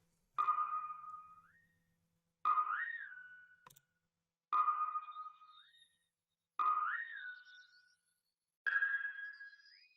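Five bright synth notes with upward pitch bends repeat at a steady pace, separated by silence; the later hits sound slightly textured, almost birdlike.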